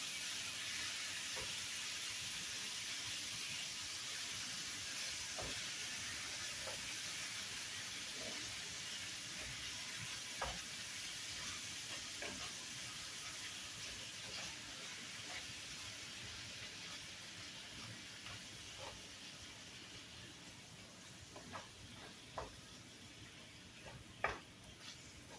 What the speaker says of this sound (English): we're going to cook our hamburger until it's nice and brown and done